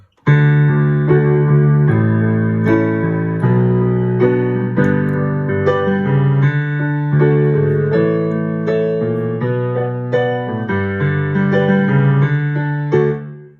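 Piano chords move through a steady progression with both hands, the verse and chorus pattern of a song, sustained harmonies changing every beat or two, played alone and fairly loud.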